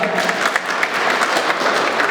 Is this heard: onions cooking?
no